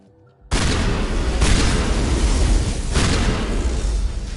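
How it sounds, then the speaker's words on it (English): Shield explosion in the video game Mass Effect: a sudden loud boom that holds as a dense, rumbling roar with surging bursts, close and alone. "that stupid shield explosion should not"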